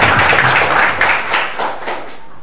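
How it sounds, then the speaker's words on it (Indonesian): Applause from a church congregation, a dense wash of clapping at full strength that gradually thins and fades out over a couple of seconds. "Boleh beri aplaus buat Tuhan."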